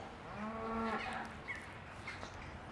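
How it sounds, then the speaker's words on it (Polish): Cows on a floating farm platform in Rotterdam let out one long, drawn-out moo, followed by a few fainter, shorter lowing calls nearby. "Jedno z ciekawszych miejsc w Rotterdamie do pokazania są pływające krowy."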